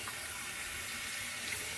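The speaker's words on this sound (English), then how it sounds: "I'm gonna rinse off with some warm water" Warm water runs steadily from a bathroom tap as someone rinses their face after a safety razor shave, a constant close hiss and splash with no talking.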